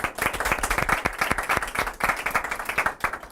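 Audience applause for the commentator and mediator at an academic session on television drama, with dense clapping from a room of people going strong throughout, no voices over it.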